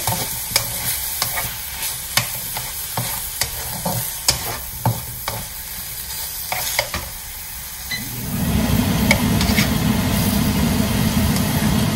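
A pan of spinach and coconut curry sizzles and bubbles, with scattered taps and scrapes of stirring early on, then a louder, steady boiling hiss takes over.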